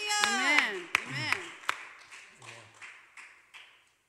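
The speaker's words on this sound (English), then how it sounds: "Give Him a clap." A church congregation at a Sunday service claps in scattered, uneven bursts, some sharp close claps standing out. A voice is heard as well, and the clapping thins and fades over a few seconds.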